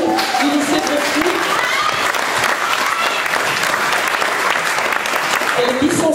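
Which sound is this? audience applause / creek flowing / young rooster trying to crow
audience applause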